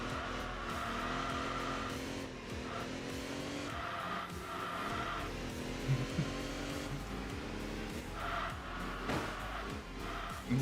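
A classic Ruf car's engine in the Enthusia Professional Racing video game, a continuous rasping drone that rises and falls through gear changes, mixed with tire squeal and skidding, up close with no talking.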